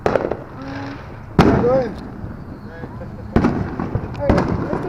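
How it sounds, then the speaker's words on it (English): Fireworks crack and pop in sharp bursts at a 4th of July backyard celebration, with whistling trails and people talking nearby. "Alright, let's do fireworks."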